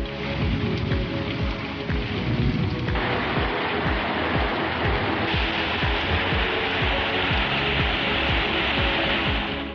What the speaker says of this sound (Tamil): திடீரென இடியுடன் கூடிய கனமழை பெய்தது